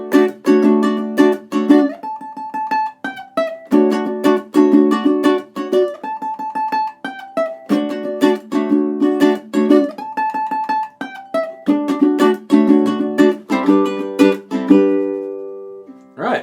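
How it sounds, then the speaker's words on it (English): Ukulele strumming the combined chords of a song, a steady rhythmic strum of bright plucked chords that changes shape every few seconds. It plays close and alone, with no voice. "So combining all the chord bits together, it would sound like this."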